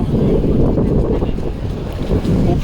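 Speedboats idle and rumble at a busy jetty in Pattaya, Thailand, where boats leave for Coral Island; a steady, loud low engine drone mixes with wind buffeting the microphone and lapping water, with no talking.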